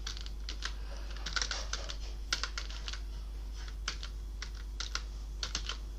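Typing on a computer keyboard while building billing software in Excel VBA: a steady run of light, close key clicks in short bursts and single taps over a quiet, humming background, with no talking.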